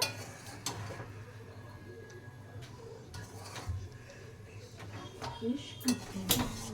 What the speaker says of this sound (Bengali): আবারও নাড়িয়ে নেব।